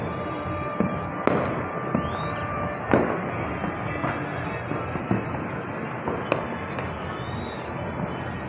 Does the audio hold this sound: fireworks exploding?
yes